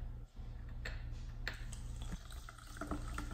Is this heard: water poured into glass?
yes